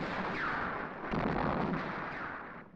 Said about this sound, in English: the plan is to breach the wall of the red cottages, the breach being made by a pole charge